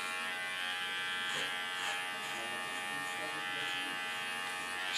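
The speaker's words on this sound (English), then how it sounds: "Use my clipper as a comb." An electric hair clipper buzzes steadily and close as it trims and contours a woman's haircut in a salon, a thin continuous hum with slight changes as it moves through the hair.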